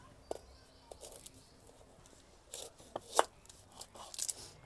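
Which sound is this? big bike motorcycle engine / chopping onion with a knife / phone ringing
chopping onion with a knife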